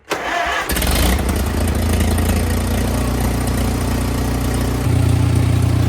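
A Farmall tractor engine cranks briefly, catches and settles into a loud, steady idle close by, with the engine note rising slightly near the end; no voices.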